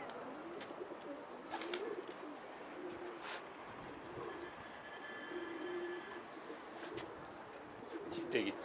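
Pigeons cooing softly in a loft, low repeated coos over a steady outdoor hum with scattered clicks and flutters, fairly faint and continuous.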